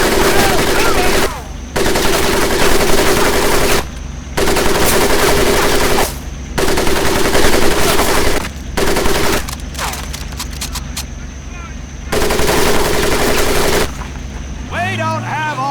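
Long, loud bursts of machine-gun fire rattle over a military training course in Medal of Honor Pacific Assault, broken by brief pauses, with rapid single shots near the end.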